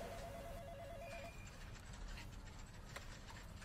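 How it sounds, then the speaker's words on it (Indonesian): A telephone ringtone warbles in repeated short pulses for about a second, then gives way to a busy, noisy background with clattering sounds, fairly loud throughout. "Nah, ada telepon nih Mbak."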